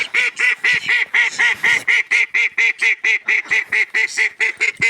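Dwarf call ducks quack in a rapid, steady run of loud, nasal calls close by, each squawk evenly spaced with no other sounds.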